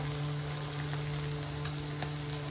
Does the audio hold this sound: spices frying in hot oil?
yes